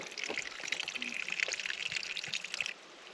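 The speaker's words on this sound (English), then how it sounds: "I even hear a little spring" A small spring beside a California coastal trail trickles steadily and faintly, a soft continuous babble with light splashy detail, alone with no talk.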